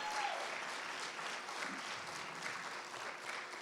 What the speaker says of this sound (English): give Lena a round of applause and all of the students in the performing arts creative